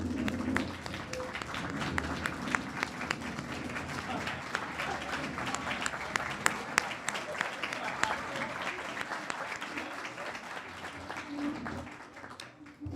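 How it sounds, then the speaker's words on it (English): Applause at an internal medicine resident graduation, honouring residents' families and friends, a long, even round of clapping from the audience with sharp individual claps standing out, tapering off near the end. "please stand as we applaud you"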